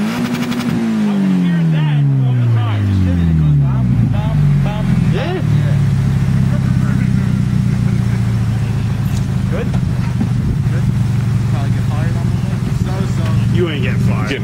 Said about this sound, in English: What's the limiter sound like?